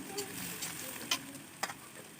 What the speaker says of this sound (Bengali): এবার পেঁয়াজ ভেজে নিব আমি পেঁয়াজটা ভেজে নিচ্ছি